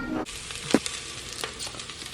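Onions sautéing in olive oil in a home kitchen while cooking pho, a steady sizzle with a soft clatter of stirring, fairly close and alone.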